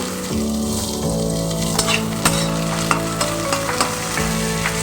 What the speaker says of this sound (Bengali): দেখো আলু আর গাজরটা ভাজা হয়ে গেছে এবার এর মধ্যে দিয়ে দেব আমি কুচো করে রাখা ক্যাপসিকামের টুকরোগুলো